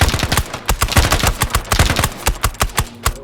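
Rapid automatic gunfire rings out in the tactical shooter game Ground Branch: loud, close bursts of shots in a fast, uneven rhythm, with no speech.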